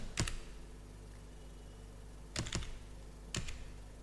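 Keystrokes on a computer keyboard while writing code, heard as three separate bursts: a quick pair of clicks at the start, another pair in the middle and one more near the end, with a steady low hum between them.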